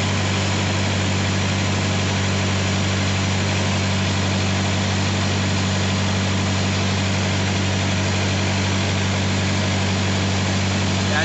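A truck trailer's reefer refrigeration unit runs steadily, a constant droning hum with a strong low tone and airy blowing, unchanging and close for the whole stretch.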